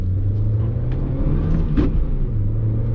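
A worn-clutch Nissan Juke turbo engine drones at steady revs with a low, loud rumble throughout, one brief sharper burst near the middle and no clear turbo whistle.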